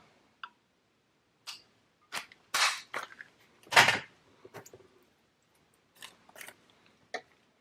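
A hand punch tool pops a pull-out tab through paper for a tall pocket in a DIY document journal, giving several sharp, close clicks and snips at irregular moments with quiet gaps between.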